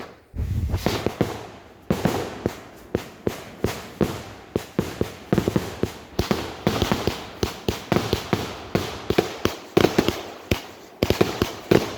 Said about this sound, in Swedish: 50-skottare. Riktigt nice.